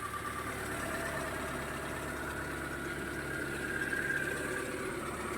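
A car engine idles steadily at close range, a smooth continuous hum with a faint whine and no revving, alone without voices.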